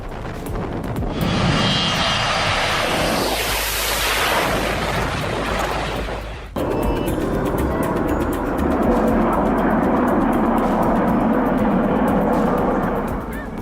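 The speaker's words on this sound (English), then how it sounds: "That Boeing 727 just skimmed over everyone's heads." Boeing 727 jet flies low over spectators near a short runway, a loud continuous engine roar that swells overhead, cuts briefly, then resumes as a steady rumbling wash.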